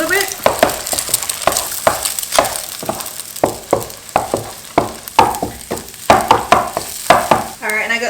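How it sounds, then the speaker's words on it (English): Eggs frying in a pan are mashed and broken up for egg fried rice, giving repeated scraping, tapping strokes of a utensil roughly twice a second over a steady sizzle, close and fairly loud. "We're just going to mush this up for a little bit."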